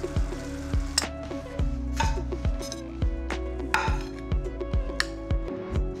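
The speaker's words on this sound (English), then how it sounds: "Just going to stir through most of the herbs, saving some to garnish" Herbs are stirred through food in a hot pan, with a steady sizzle beneath repeated scraping and clinking strokes of a utensil against the pan, close and moderately quiet, with no voices.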